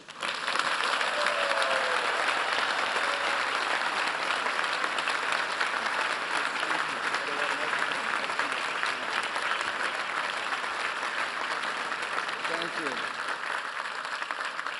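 An audience at Harvard applauds Steven Spielberg, a dense, steady roar of clapping from a large crowd that holds for the whole stretch with no voices on top.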